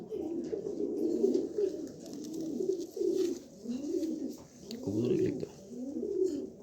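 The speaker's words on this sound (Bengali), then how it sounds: "এই দেখেন একবারে নতুন একটা কবুতর" A young pigeon coos in repeated soft, throaty phrases, close and steady, with brief gaps between each rolling call.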